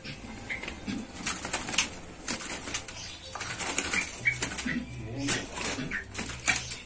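Buffalo mynas released by hand burst into flight, their wings flapping in repeated fluttering bursts at close range, mixed with faint bird calls and people talking in the background.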